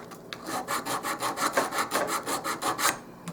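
A crooked piece of a small wooden hall table is sanded by hand in steady back-and-forth strokes, a close rhythmic rasping of about a dozen even passes with no voices.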